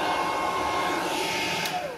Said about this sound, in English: as you can see, here we have our hairdryer.